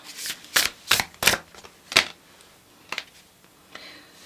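Tarot card deck being shuffled close up, a handful of quick riffling bursts followed by softer card flicks and slides, with no talking.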